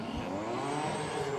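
A drift car with a 20B rotary engine at Okayama, a loud, sustained high engine note rising slightly over a short stretch, with no talk.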